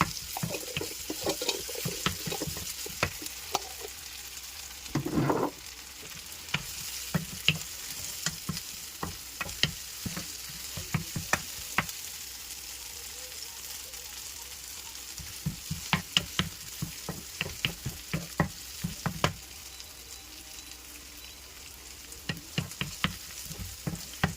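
Garlic-ginger paste is stirred into onions frying in a pan for Kerala-style sardine curry, with repeated close scraping strokes of the spoon over a steady sizzle that runs throughout, briefly broken by a louder splash-like burst.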